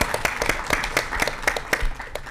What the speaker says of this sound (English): let's give Wendy a round of applause